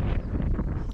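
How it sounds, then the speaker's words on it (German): Cold wind blows at a lakeside bathing spot in Poland, a loud, low rumbling buffet that roars steadily close to the microphone for about a second with no talk. "Es ist kalt, es weht etwas Wind."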